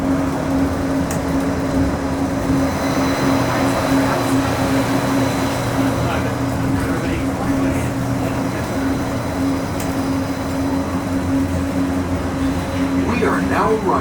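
Disneyland Railroad train rumbling steadily into Downtown Disney Station, a continuous low rolling drone with a sustained hum, under a voice speaking over it.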